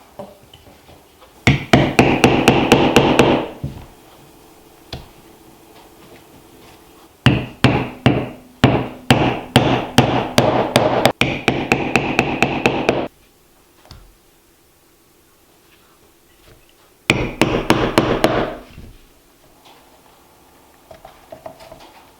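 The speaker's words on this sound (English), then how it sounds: "we're going to punch our holes all the way through this time" Rapid bursts of sharp metallic hammer strikes on a punch, driving holes through material in a workshop, several rhythmic volleys separated by pauses, close and loud.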